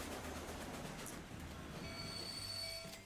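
A grain train rolls in on an American railroad in Transport Fever 2, steady rumbling wheels and rail noise with a high squeal rising as it slows to arrive.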